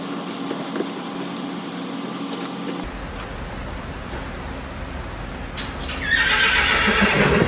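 A horse gives a loud, close whinny lasting several seconds, set against steady barn ambience and fan-like air noise at a show-jumping event, with no talk.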